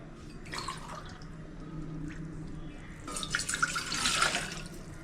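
Water is poured from a tumbler into rice flour for crisp murukku dough, splashing and trickling in two short bursts, soft and close with a quiet room behind.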